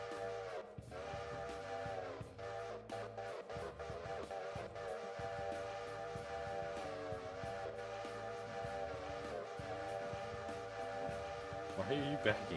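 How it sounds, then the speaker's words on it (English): A train in a train video game sounds a sustained, chord-like whistle over a low rolling rumble and clicking wheels. The train is fairly close and steady, and voices talk over it. "That's a train."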